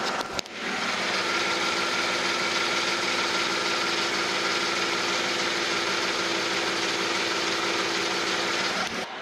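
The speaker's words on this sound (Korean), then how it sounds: "엔진룸 열어봤고 엔진 소리 들어보도록 하겠습니다" A 2012 Hyundai Genesis BH sedan with a V6 GDI engine idles with the hood open, giving a smooth, steady, quiet hum with a faint mechanical whir that holds evenly throughout, with no voices.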